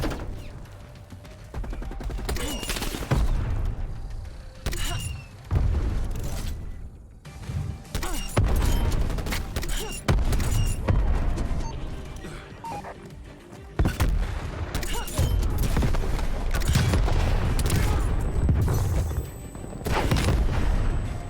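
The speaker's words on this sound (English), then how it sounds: "War machine ready for use." Repeated grenade-launcher explosions and booming gunfire from the War Machine in the Call of Duty: Black Ops Cold War team deathmatch multiplayer, loud and dense, with heavy blasts recurring throughout.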